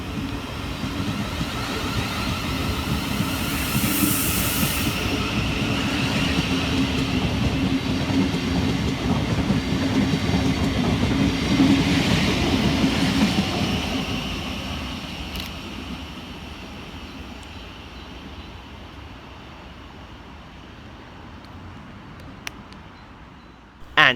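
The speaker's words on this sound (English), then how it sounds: "Next to depart from the station is 707-022 and 707-003, working the 1314 Southeastern service from London Charing Cross through to Hayes" Pair of Southeastern Class 707 electric trains, 707-022 and 707-003, pulling out of a station on the Hayes line, a rising rumble of wheels and rail joints that swells, holds steady, then fades as they move away.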